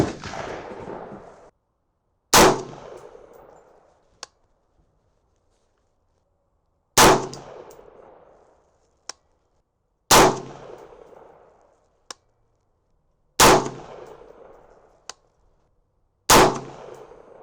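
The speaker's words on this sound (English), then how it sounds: "As you'll be able to hear in the background, the range is packed today. Lots of people shooting." Gunshots from other shooters at a busy outdoor shooting range, heard as five loud, sharp reports spaced a few seconds apart, each trailing into an echo, with fainter, more distant cracks in between and no talk.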